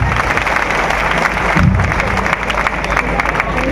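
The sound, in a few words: crowd applause welcoming speaker at rally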